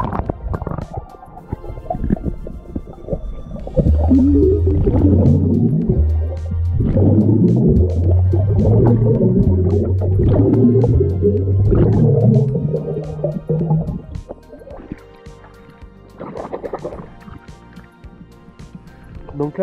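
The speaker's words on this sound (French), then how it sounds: "Donc là j'ai fait des bulles" A swimmer exhales bubbles underwater at the bottom of a pool, a low gurgling, bubbling rumble that swells for about ten seconds and then fades into quieter water noise.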